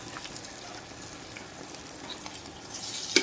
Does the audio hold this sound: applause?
no